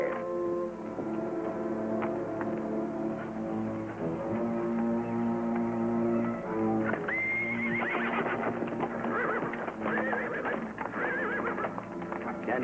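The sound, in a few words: horses (ponies) neighing and hooves clip-clopping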